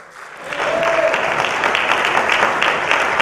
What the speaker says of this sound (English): So can we all clap for Tajurba?